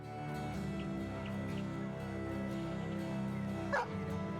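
In the medieval strategy video game Battle Brothers, dogs give faint, brief yips and barks over a steady, droning music track.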